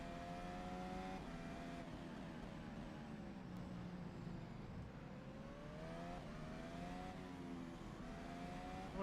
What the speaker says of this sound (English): he drops a gear to get through that corner, down to 4th